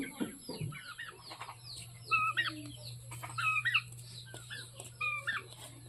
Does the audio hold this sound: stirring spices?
no